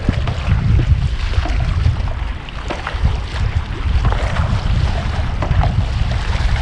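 A sailboat runs crosswind through choppy waves, with loud, steady wind buffeting and rushing water slapping the hull in a continuous surging roar.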